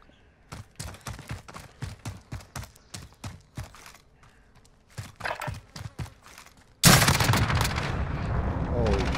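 Tavor rifle fire in a Modern Warfare 3v3 match, a steady series of sharp, evenly spaced single shots followed by a loud, dense burst of gunfire and chaotic action.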